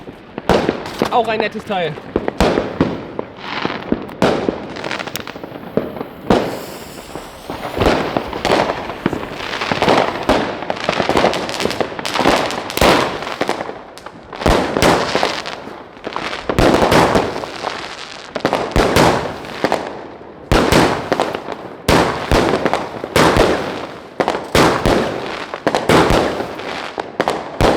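A 30 mm tube Eisblume fireworks battery fires on New Year's Eve in a rapid, loud barrage of booms and crackles that continues almost nonstop, with people talking and shouting over it.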